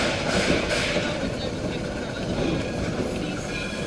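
A narrow gauge railway train pulling into a forest station, with a continuous rumbling roll, engine drone, and faint clattering of cars, heard at a steady, moderate level.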